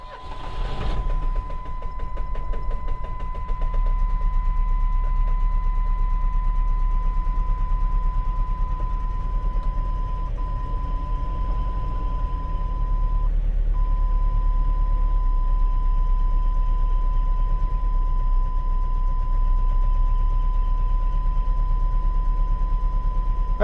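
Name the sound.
1997 Chevy S10 engine starting after fuel injector replacement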